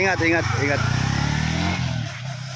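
A motorcycle pulls away with a steady mid-pitched engine drone that holds, then eases off toward the end, while people chat over it at the start.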